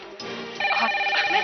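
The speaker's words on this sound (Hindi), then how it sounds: "ओरी श्यामा, फोन बज रहा है, जल्दी आ।" Telephone ringing in a home in a Hindi television drama, a bright electronic ringtone that swells and continues throughout the short span, with no voices over it.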